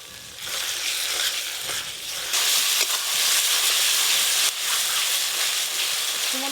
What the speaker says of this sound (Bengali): টমেটো কুচি, লবণ, অল্প একটু জল দিয়ে মশলা বেশ ভালো করে কষে নেব।